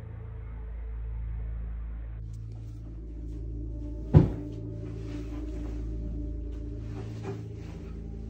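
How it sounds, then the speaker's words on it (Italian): A single sharp knock sounds from inside a bedroom wardrobe, standing out clearly against a steady low hum, with no one talking. "si può chiaramente sentire qualcuno bussare dal guardaroba"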